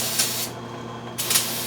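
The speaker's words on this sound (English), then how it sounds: "use a little bit of brake cleaner to clean off the bearing surfaces of the crank." Brake cleaner hisses from an aerosol can onto the bearing surfaces of an engine crankshaft, with two short bursts of close, steady spray separated by a brief pause.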